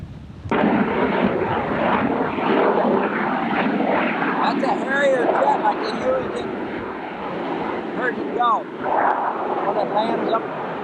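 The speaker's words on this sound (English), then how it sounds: "That's a Harrier jet like" Harrier jet flying over near a pier, a loud continuous engine roar with whining, shifting tones that dominates throughout, with a person's voice talking beneath it.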